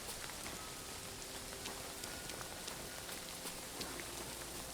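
Steady rain falling at a nomad camp in the medieval video game Kingdom Come: Deliverance 2, a dense, even patter of drops on surfaces with faint scattered ticks, continuous and fairly quiet with no talk.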